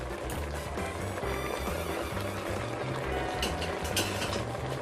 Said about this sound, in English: we'll just get a little spoon, give it a stir